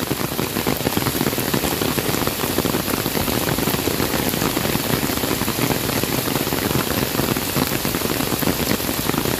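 Heavy rain pours steadily over Luneta park during rehabilitation work, a loud, dense hiss of drops striking surfaces with no pauses.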